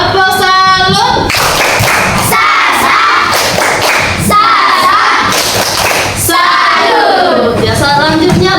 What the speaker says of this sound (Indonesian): Dari itu kita tepuk salut ya untuk kelompok 1.